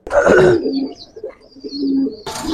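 Giribaz pigeon, a male tumbler, giving a low rolling coo with a few soft broken notes, close and fairly loud, with brief rustling at the start and end.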